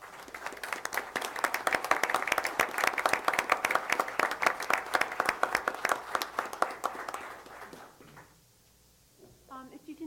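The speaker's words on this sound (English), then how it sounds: "I ask that we all support him with a round of applause in welcome." At a village council meeting, an audience claps in welcome for an interim police chief, a lively round of many hands lasting several seconds before stopping abruptly, followed by faint voices.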